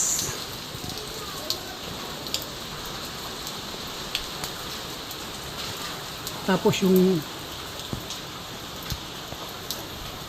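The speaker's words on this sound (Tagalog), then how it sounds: "Pabugso-bugso yung hangin at ulan" Gusty wind and rain during a strong storm in the Philippines, a steady wash of rainfall with broad noise throughout and a brief louder disturbance near the middle, with a voice speaking faintly at times.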